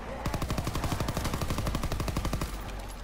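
Rapid automatic gunfire from the Call of Duty WW2 Zombies mode, map The Frozen Dawn, a loud continuous burst of closely spaced shots lasting about three seconds with no talk over it.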